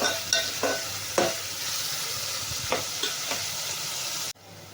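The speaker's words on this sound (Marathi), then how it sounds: "आणि हा हिंग टाकायचा आता. हे कांदा वगैरे सगळं लालसर होऊ द्यायचं." Onions frying with asafoetida in a pan for phodshi bhaji: a steady close sizzle broken by several sharp spatula clacks and scrapes, ending abruptly near the close.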